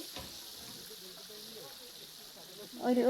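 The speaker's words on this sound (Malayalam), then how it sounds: "ചിക്കനൊക്കെ കുറച്ച് ഇട്ടിട്ട് പൊരിക്കാൻ തുടങ്ങിയിട്ടുണ്ട്." Chicken pieces frying in hot oil for a wedding-style biryani give off a soft, steady sizzle, faint and close, with a brief louder bubbling flare at the end.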